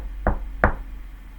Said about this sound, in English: knock on the wall and listen to the sound